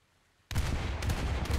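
Torpedoes striking a target ship in War Thunder: a sudden loud explosion bursts in after near silence, then continues as a sustained rumbling, crackling roar with further blasts layered in.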